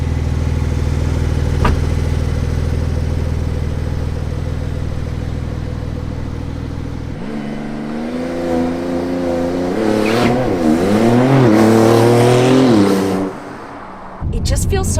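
A Porsche 911 engine idles with a deep, steady rumble, then revs and accelerates with rising and falling tones that grow louder before cutting off sharply near the end.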